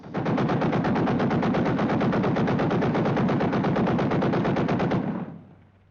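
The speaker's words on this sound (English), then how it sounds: "gunnery practice" Rapid, continuous bursts of heavy naval gunfire from a ship during gunnery practice hammer away for about five seconds, loud and dense, then cut off and leave a fading rumble.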